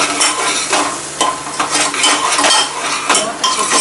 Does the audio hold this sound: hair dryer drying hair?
no